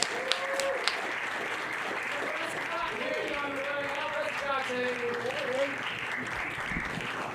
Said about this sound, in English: Please, a round of applause for the very funny Jack Wilks.